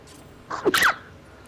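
A single sneeze during a game stream, quick and sharp with a short breathy intake before the burst, heard close and alone.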